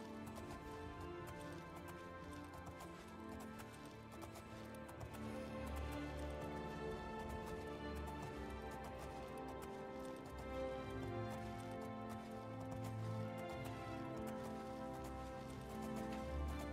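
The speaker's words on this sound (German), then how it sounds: "So, da ist ein Pferd ohne Besitzer." Horse hooves clip-clop in the video game The Elder Scrolls IV: Oblivion, a quiet, steady rhythm of hoofbeats under soft ambient game music, heard without talking.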